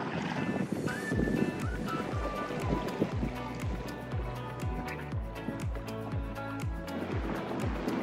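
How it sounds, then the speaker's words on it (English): A low, steady ferry engine drones nearby as the ferry passes, with a rhythmic thumping pulse and water sloshing, no voices. "Ferry is coming. There is the ferry."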